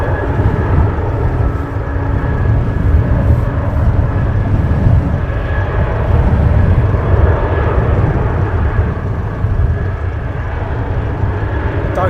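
A Beechcraft King Air turboprop lands at Luton Airport in gusty wind, its engine drone a loud, steady roar with wind buffeting throughout.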